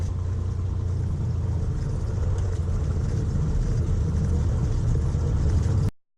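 A Cessna 182S taxis to runway 09, its piston engine giving a steady, loud low rumble and drone that holds unbroken and then cuts off abruptly at the end.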